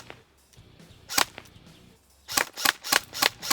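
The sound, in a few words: LCT AS VAL airsoft replica shooting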